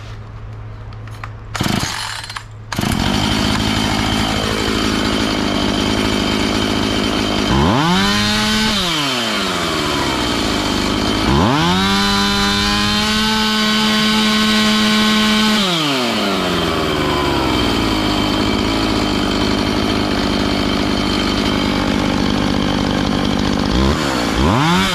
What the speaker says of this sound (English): I think we just fixed the chainsaw.